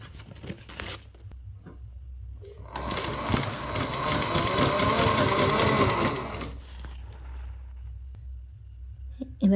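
A sewing machine stitching cloth for a homemade bag whirs in a rapid mechanical patter for about four seconds, framed by quieter handling clicks and rustles of fabric before and after.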